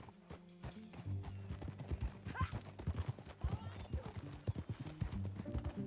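Horse hooves clip-clopping at a steady riding pace in the video game Red Dead Redemption 2, close and continuous with faint ambient sound and brief spoken lines mixed in.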